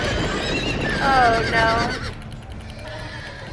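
Horses whinny in the Game of Thrones video game, a loud, shrill neigh rising and falling near the middle, with hoof and battle noise underneath and a voice talking over it.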